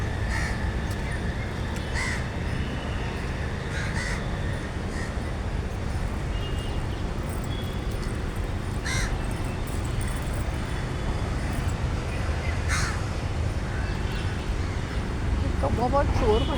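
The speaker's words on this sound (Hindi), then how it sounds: "कौवा बहुत शोर मचा रहा है." Crows caw repeatedly in scattered bursts over a constant rumble of traffic, some calls nearer and sharper than others.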